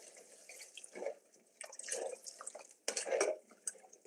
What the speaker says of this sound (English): and pour in my broth